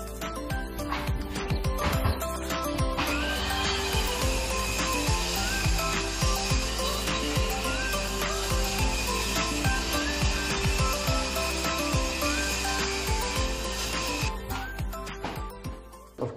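A power saw cuts steadily through a wooden floor directly above a floor joist during a house renovation, a loud continuous grinding whine with rattling, running alone for most of the clip before cutting off near the end.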